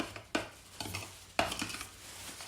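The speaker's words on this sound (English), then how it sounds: "We're just going to mix this all together and get it so it's all incorporated." A spoon stirring sunny cake batter in a bowl gives a few sharp scraping knocks amid a soft, wet churning sound, close and quiet, with no talking.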